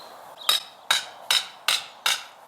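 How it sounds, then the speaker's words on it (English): Five sharp, evenly spaced hammer blows drive a wooden garden edging stake into the ground in a backyard garden in Christchurch, each strike a crisp close knock with a short ringing decay, no talking. "I'm going to be hammering it down to just below where this is so that we can't see this"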